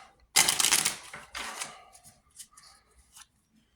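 A deck of playing cards is turned and cut, giving a sharp riffling burst followed by lighter flicks and soft taps spaced out over the next few seconds.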